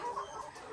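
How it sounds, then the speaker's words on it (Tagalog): Decal white laying hens cluck in the cages of a layer farm, a dense, moderately loud chorus of overlapping clucks and murmurs in a brief stretch. "Ito po yung mga bago nating manok"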